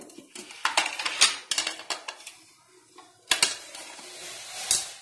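A pan clanks down on a kitchen counter amid utensil clatter while about four spoons of oil go in, during chole bhature prep; close, sharp metallic knocks and scrapes come in uneven bursts with quiet gaps and no clear sizzle.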